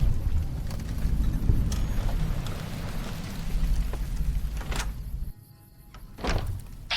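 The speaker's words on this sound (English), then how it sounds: "this is the first time we see rain in Fallout in this game" Rain in the video game Fallout: New Vegas, a steady hiss of falling rain with low rumbling beneath, a brief dip near the end and a couple of sharp thunks.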